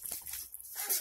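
A dog whimpers while playing with a ball, giving a brief, soft, high whine that rises near the end, close by and alone.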